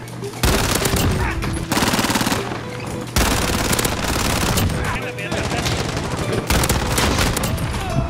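Rapid bursts of Fennec (Vector) submachine gun fire in Call of Duty: Modern Warfare multiplayer, loud and close, in several sustained volleys broken by short pauses for reloading.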